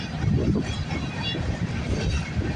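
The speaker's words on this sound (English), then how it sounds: "let's focus on the train we're catching. 4 engines is not bad" Rumbling, rattling roll of a CN/CP freight train hauling containers and autoport boxcars behind four engines in Milton, Ontario, steady and fairly close with faint wheel clatter.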